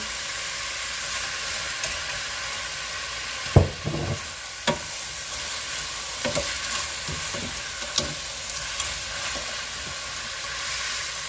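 Small anchovies (dilis) fry in a pan for ginataang labong, giving a constant hissing sizzle. A spatula stirs them, adding several sharp scrapes and knocks against the pan.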